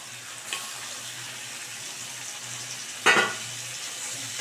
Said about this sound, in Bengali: সঙ্গে এবারে যে ভাজা চিকেনগুলো আছে এগুলোকে আমি সব অ্যাড করে দিচ্ছি।